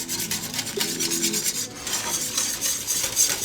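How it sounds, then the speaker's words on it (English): A whisk scrapes rapidly and continuously through a mixture of flour and butter in a pot, producing a close, steady rasping swish with no voices. "Whisk all that up until you see it getting thick."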